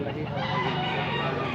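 Rooster crowing at a gamefowl sale in Cebu, one loud sustained crow close by, filling the short moment without talk.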